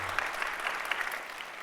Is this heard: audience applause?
yes